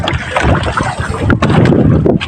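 Strong wind roars steadily across the microphone with a broad, rumbling buffet, mixed with water and boat noise, loud and continuous throughout.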